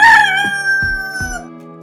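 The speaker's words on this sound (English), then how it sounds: "R-O-O-S-T-E-R. Rooster." A rooster crows once in a long, held, nasal call that fades gradually, with a few soft low thumps beneath it.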